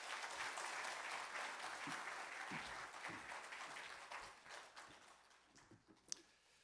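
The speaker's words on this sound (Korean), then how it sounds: "우리 이동현 선교사님을 박수로 모시겠습니다." A church congregation applauds to welcome a missionary from Myanmar, the clapping full at first and then gradually thinning and fading, with a few scattered claps and a sharp knock near the end.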